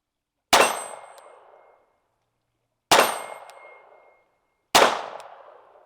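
Three sharp rimfire pistol shots from a Browning 1911-22 firing Winchester ammunition at steel targets, each a loud crack with a long decaying ring, spaced a couple of seconds apart.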